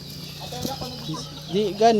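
Chickens on a countryside farm clucking in short, close calls that grow louder toward the end, heard over a low steady hum with a person talking.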